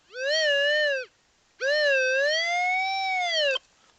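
A metal detector pinpointer gives two steady electronic tones over a buried target in a wooded valley, with a slight wavering pitch, a short one followed by a longer one after a brief gap, loud and close.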